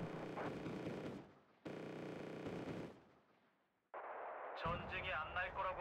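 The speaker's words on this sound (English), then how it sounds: "Did you notice that the sound effect for this gun, the HE gun, and the AP gun is different?" Wargame: Red Dragon fires its HE and AP guns. Three loud, close cannon blasts each cut off sharply or trail away, and the last is different in character. Voices talk faintly around them.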